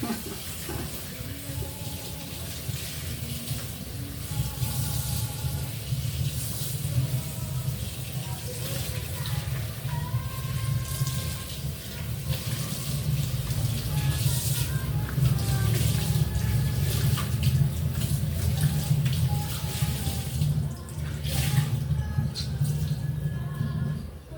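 Tap water runs steadily while dishes are being washed, a continuous broadband rush lasting throughout with occasional clinks and faint voices in the background.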